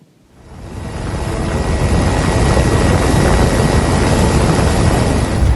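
An Indonesian Air Force EC-725/H225M Caracal military transport helicopter roars up quickly and holds a loud, steady rotor and engine drone close by.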